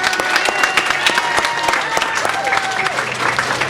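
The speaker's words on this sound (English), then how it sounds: "so let's give yourselves a round of applause" An audience at an open house for The Arc of Greater Brockton claps together in dense, steady applause, loud and close, with a few voices cheering faintly in the mix.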